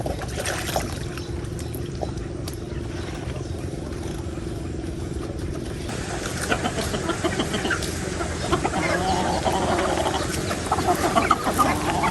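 Chickens cluck around a fish pond at sunrise, a steady outdoor bed of fowl calls with faint water and background noise, growing a little busier and louder toward the end.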